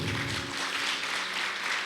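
Brief applause from a church congregation during a worship service, a soft, even patter of many hands clapping together at moderate loudness.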